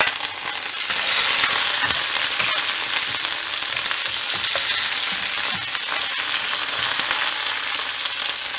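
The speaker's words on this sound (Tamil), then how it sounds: "இப்போ இதல கறிவேப்பிலை ஆட் பண்ணிரலாம்" Curry leaves frying in hot oil in a pan for chow chow kootu, a loud, dense crackling sizzle that swells early and holds steady, with faint stirring clicks and no voices.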